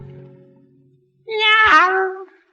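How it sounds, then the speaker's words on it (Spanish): A single cat's meow, loud and close, rising then falling over about a second, heard alone after a faint low hum fades to silence. "y el gato le contestó, ñau"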